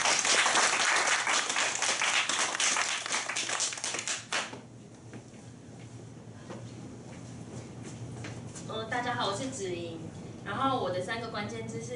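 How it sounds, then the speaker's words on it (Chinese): Audience applause welcoming a speaker at a self-introduction meetup, dense steady clapping for about four seconds, then dying away into room murmur and talk. "我们掌声欢迎"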